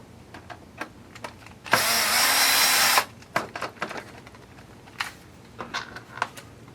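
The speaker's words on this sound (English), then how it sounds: "Let's let the screwdriver press them in for us." A power screwdriver driving screws into parts of an Axial Yeti XL RC model kit, with one sustained whirring run of about a second, then short clicks and brief bursts of the tool nearby.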